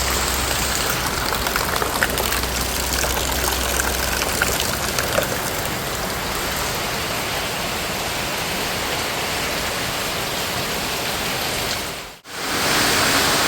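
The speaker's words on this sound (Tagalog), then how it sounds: "Malakas po ang ulan." Heavy rain pours down in a steady, loud, hissing roar near a home kitchen, continuous for over ten seconds with a brief cut near the end.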